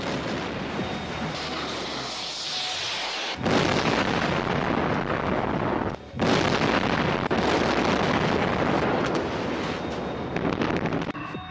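Powerful roaring blasts and rushing, wind-buffeted rumble continue for several seconds, with sharp onsets like rockets firing one after another outdoors, as various missiles launch in an Iranian IRGC naval exercise.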